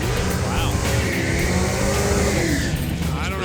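A heavy drag racing car makes its run at a drag strip during a game show, a dense, continuous engine roar with tire noise throughout, loud and steady, with a commentator's voice mixed in.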